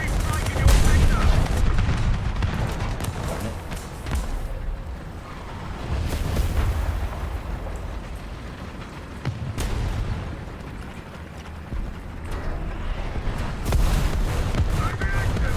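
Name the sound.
artillery strike explosions in the War Thunder video game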